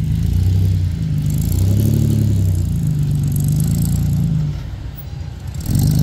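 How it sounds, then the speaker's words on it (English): A rock crawler's engine roars close by as the vehicle climbs through a gate on a World Extreme Rock Crawling course in Cedar City, Utah. The loud, sustained revving swells and falls, eases briefly, then surges again. "He is dragging that car around, getting it up into that gate."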